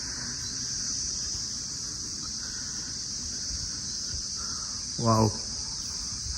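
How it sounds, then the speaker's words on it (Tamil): Insects drone steadily and high-pitched on the hillside stairway of the Kumaragiri Subramaniya Swamy temple at Thimiri in Ranipet district, a constant shrill hum that fills the air, with a brief exclamation from a voice near the end. "பூச்சிகளின் ரீங்காரம் நல்லா இருக்கு."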